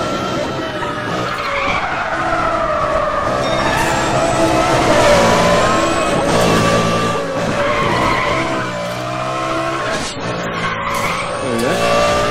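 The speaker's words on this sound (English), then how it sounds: "I'm driving a Lamborghini" Lamborghini in the racing video game Need for Speed: The Run, a loud revving engine with long tire squeals and skids that rise and fall as the car slides through corners.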